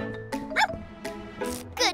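A cartoon dog, a character that has turned into a sniffer dog, gives a run of short, bright, yappy barks and yips that come in uneven bursts, with a little voiced sound mixed in.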